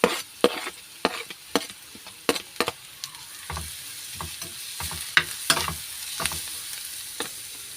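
Grated carrot sizzling as it fries in hot oil, with a utensil stirring and scraping the pan in irregular clinks and pushes, close and steady with no talking.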